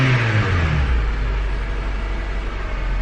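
Honda Civic fitted with a K&N short ram intake, its engine revving steadily and loud close by, with a deep constant rumble and rising intake roar, no talking.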